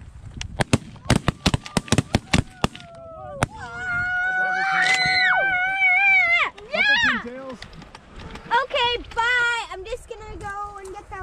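Shotguns fire a rapid volley of sharp, loud blasts during a snow goose hunt, followed by honking goose calls and people talking.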